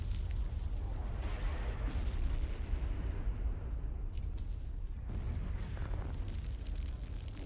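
Bombing explosions in the Resident Evil Code: Veronica video game: deep, rumbling booms rolling continuously over several seconds, loud and dense, with a fresh blast near the end.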